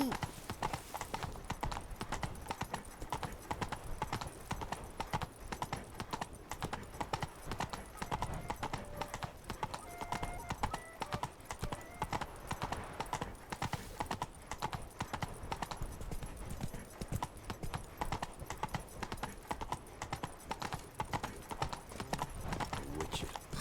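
Roach the horse trotting in The Witcher game Blood and Wine, rapid regular hoof clip-clops throughout at close range, under steady ambient noise with speech at times.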